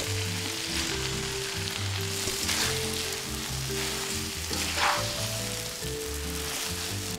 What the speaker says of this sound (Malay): tambah air sikit-sikit sambil kacau bihun